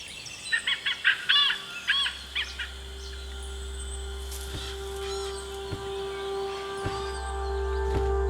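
Malabar pied hornbills calling in the Western Ghats forest near Dandeli, a quick series of loud, harsh cackling calls at the start, then a steady insect drone with occasional faint distant calls.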